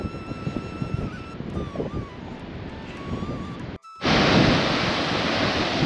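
A mountain river rushes close by on the Satopanth Lake trek in the Himalayas, a steady broadband roar that cuts out for a moment and then comes back louder and fuller.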